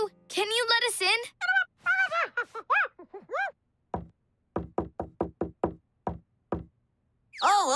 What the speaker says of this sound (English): We have to match his secret knock.